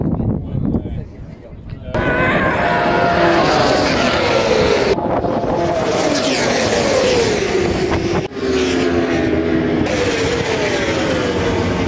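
Racing motorcycles roar past at the Bol d'Or 24-hour race start at Le Castellet, at the end of the Mistral straight; loud, sustained engine howl from a pack passing close, with falling pitch sweeps as bikes streak by.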